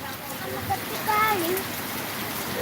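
Steady rain falling on a courtyard, a soft, even hiss heard close and fairly faint, with a few faint voices or birdlike tones over it.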